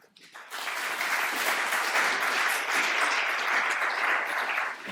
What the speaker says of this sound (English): if we can give all of them another round of applause and a big thanks